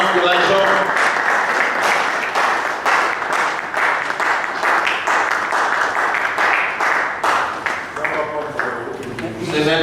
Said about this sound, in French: Acclamons, acclamons, acclamons, acclamons.